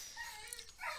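A dog whimpers faintly with thin, high wavering whines over a quiet background, brief and soft.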